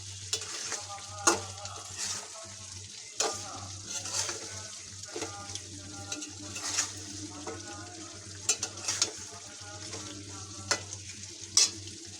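Ripe tomatoes are stirred into browned chicken curry in a pan, a soft sizzle beneath intermittent scrapes and knocks of a spoon against metal, fairly quiet and close, with no talk.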